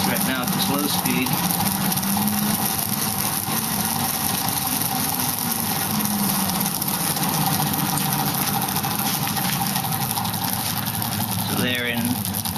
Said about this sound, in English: The generator's putting out 7 volts right now at this low speed.